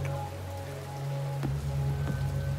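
Rain patters continuously in a Yakuza video game, a close, even hiss over low droning tones with a couple of brief soft thuds.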